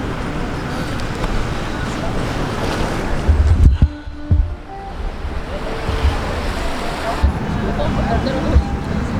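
Ocean waves wash onto a beach in a continuous surf roar with wind buffeting the microphone, a brief louder gust or bump midway, and no voices.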